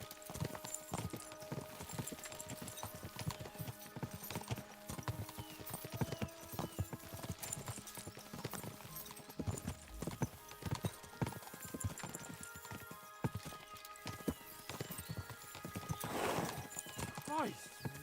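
Horses gallop in a video game, with rapid, continuous hoofbeats and occasional neighs and whinnies, busy and fairly loud, while voices talk over the action throughout.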